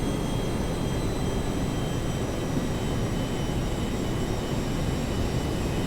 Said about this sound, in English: And there goes engine 1.